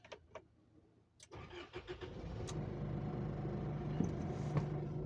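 An Isuzu MU-X common-rail diesel cranks briefly after a few clicks, then fires and settles into a steady, loud idle rumble that holds to the end.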